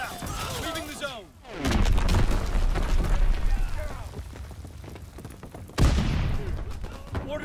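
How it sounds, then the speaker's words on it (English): Mortar shots fire in a video game with two sharp, heavy booms, one early and one late, each followed by a rolling rumble, with game voices and effects around them. "Mortar shot out."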